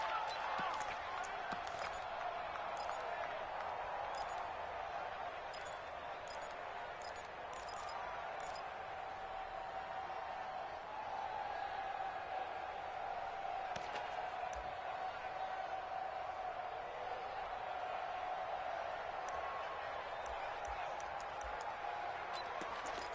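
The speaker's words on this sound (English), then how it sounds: "Listen to this crowd now" Football stadium crowd roaring steadily during a tense 2-point conversion attempt after a late touchdown, a dense continuous wash of massed voices and cheering that holds loud throughout with a commentator talking over it.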